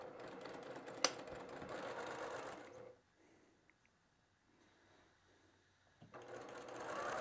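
A sewing machine stitches batik quilt block pieces in a steady whirring run, pauses for a few quiet seconds, then starts up again, close and clear.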